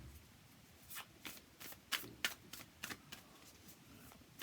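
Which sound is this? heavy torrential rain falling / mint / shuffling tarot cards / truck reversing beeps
shuffling tarot cards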